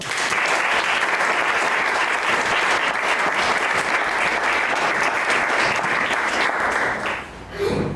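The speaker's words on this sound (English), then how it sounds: "Please give a round of applause for Brian Hanshaw" Loud, dense audience applause at a Grange hall magic show as magician Brian Hanshaw is welcomed, a steady roar of many hands clapping for about seven seconds before tapering off.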